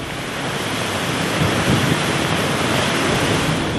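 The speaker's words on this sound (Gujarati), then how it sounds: "શહેરમાંથી પસાર થતી નાવલી નદી બે કાંઠે વહેતી થઈ છે" Floodwater of the Navli river pouring over its banks after heavy rain, a loud continuous broadband rush with steady surging roar throughout, no voices.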